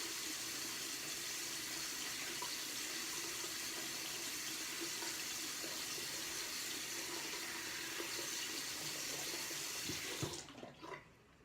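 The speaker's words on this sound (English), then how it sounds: "And wipe the soap right off my face." A bathroom tap runs steadily into a sink as soap is rinsed off a face, a continuous close splash that cuts off abruptly near the end, leaving a few drips and handling sounds.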